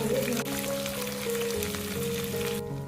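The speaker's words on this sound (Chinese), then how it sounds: "然后放入姜片，把姜片的香味炒出来。" Ginger slices frying alongside a crucian carp in a hot wok: a steady, even sizzle and crackle of oil with a faint tune underneath, cutting off abruptly at the end.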